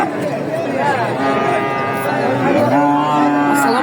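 A cow moos loudly and repeatedly at a livestock market in Chandaikona, Sirajganj, with people talking and crowd chatter underneath.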